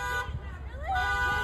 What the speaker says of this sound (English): He's being honked at.